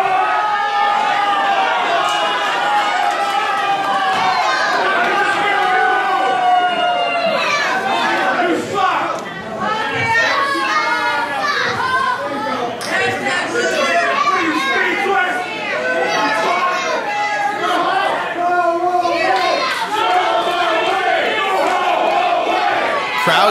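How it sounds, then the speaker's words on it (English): A wrestling crowd at a heavyweight championship event chants loudly and continuously, many voices shouting in rhythmic unison with cheers and yelling mixed in throughout. "Crowd chanting Slyck to go away"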